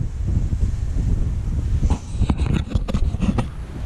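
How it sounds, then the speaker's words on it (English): Strong wind roars and buffets a microphone in heavy low rumbling gusts, with brief crackling bursts toward the end, outdoors on a bikepacking route in Andalusia, Spain. "as soon as I step out from behind this bush, it is so windy"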